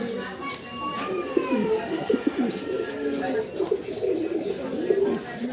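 Young fancy pigeons, including German Beauty Homer and Andalusian indigo birds, coo in low, throaty repeated phrases close by, with other birds chirping faintly in the background.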